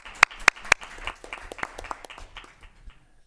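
Audience applause at a school district board meeting, with three sharp claps up front followed by a short, light patter of clapping from a modest crowd that fades out within a few seconds.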